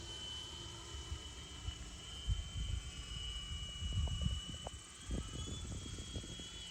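A Freewing A-10 Thunderbolt II twin 80mm EDF radio-controlled jet whines faintly in the distance as it comes in to land, a thin steady turbine hiss with irregular low wind buffeting and no voices.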